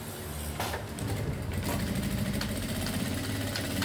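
A sewing machine runs steadily, its fast, even mechanical chatter stitching a zigzag M pattern, loud and close, with a short pause and restart near the beginning.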